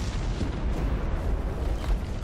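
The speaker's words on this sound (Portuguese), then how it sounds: "E que explosão, hein?" A max power attack in the video game Prototype 2 sets off an explosion, heard as a steady, heavy, low rumble that holds throughout without distinct blasts.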